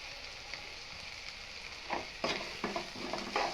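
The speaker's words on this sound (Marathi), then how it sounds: "कांदा टोमॅटो मस्त फ्राय झालेलं आहे." Chopped onion and tomato frying in a pan with sambar masala being added, a steady sizzle with scraping stir strokes growing louder and more frequent toward the end.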